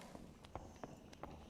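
Nearby player footsteps in the dungeon game Dark and Darker, several soft uneven thuds spaced apart at a walking pace, faint and low in level with no talk.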